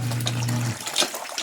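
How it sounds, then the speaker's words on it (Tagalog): Water from a hand pump worked by a woman gushes steadily with a low humming pulse, then gives way to softer splashing and trickling, close and moderately loud. "Yan yung misis ko nagbubumba."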